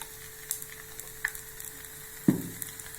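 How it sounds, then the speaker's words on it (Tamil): Kara adai cooks on a pan after oil is poured over it, giving a faint, soft sizzle with a few scattered light clicks and one sharper clack, and no voices. "நம்ம எண்ணெய் ஊற்றிக்கணும் மேலே கொஞ்சம்."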